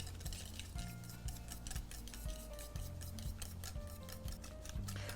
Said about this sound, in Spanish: utilizar un batidor de varillas y simplemente vamos a mezclar hasta unificar